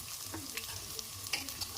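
Crushed garlic frying in oil in a pan, a steady quiet sizzle with occasional light clicks of stirring.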